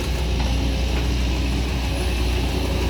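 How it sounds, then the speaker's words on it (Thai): A water pump runs near an SK200 Mark 5 excavator, a steady, dense mechanical drone with a fast rattling, ratcheting texture and a low hum, constant and unbroken throughout. "เครื่องสูบน้ำครับ"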